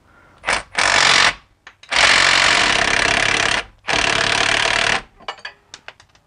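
Power tool bursts loosening a differential nut under a BMW E46, three long loud rattling runs separated by brief pauses, with small clanks after.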